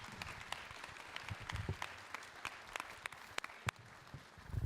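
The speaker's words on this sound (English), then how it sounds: "Y'all give them a round of applause again" Audience applause at a Black History Month celebration, a soft, steady patter of clapping with scattered sharper claps, heard at a distance in a large room.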